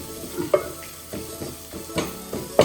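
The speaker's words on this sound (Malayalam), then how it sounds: "കുറച്ച് മുളക് പൊടി കുറച്ച് മല്ലിപ്പൊടി ഇട്ട് വഴറ്റി അതിലൊരു കഷ്ണം കായം കൂടി ഇടണം" Chili and coriander powder sauté in oil for a home-style rasam, a soft close sizzle punctuated by a few rhythmic scraping strokes of a spoon against the pan.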